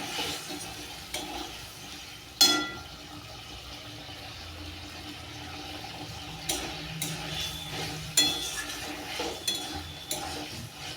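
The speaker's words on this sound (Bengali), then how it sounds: "জল দেওয়ার পর ভালো করে নেড়ে নিতে হবে।" A potato and pointed gourd curry with duck eggs being stirred in a pan after water is added: gentle simmering bubbles under scattered metallic clinks and scrapes of a spoon against the pot.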